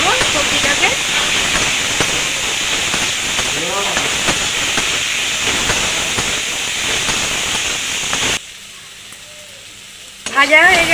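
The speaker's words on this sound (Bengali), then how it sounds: "নেড়ে ছেড়ে হালকা করে ভেজে দেবো সবজিটাকে।" Broad beans and eggplant, seasoned with salt and turmeric, fry in a pan with a steady loud sizzle and intermittent scraping stirs, before the hiss drops away sharply near the end and a clatter follows.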